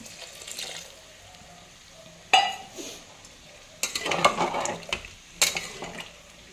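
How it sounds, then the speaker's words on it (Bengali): Pre-heated hot water is poured into onion khichdi in a pot and stirred, giving a sudden sizzle and splash followed by scraping, stirring bursts and clinks of the spoon against the pan. "এখন এখানে দিয়ে দেবো আগে থেকে গরম করে রাখা গরম জলটা।"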